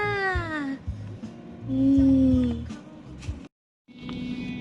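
A cat meows repeatedly during a car trip to Bangsaen, with drawn-out rising and falling cries over low road and engine rumble and a short silent gap near the end.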